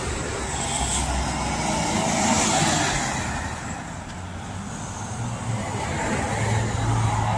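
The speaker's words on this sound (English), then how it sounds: "let me get these cars leaving first" Several cars drive past and away on a road outside a postal property, their engine and tire roar steady and fairly close, swelling and easing over a constant traffic rumble with no talking.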